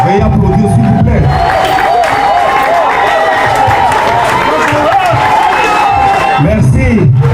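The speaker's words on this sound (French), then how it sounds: "Veuillez applaudir s'il vous plaît." A crowd at a diploma-award ceremony claps and cheers steadily throughout, with whoops and voices mixed into a dense, continuous wash of applause.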